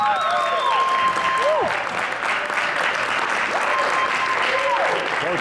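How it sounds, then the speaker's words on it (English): Concert audience gives dense, sustained applause, steady and loud throughout, while a few high whistles rise and fall above it. "Let's give him a warm applause here."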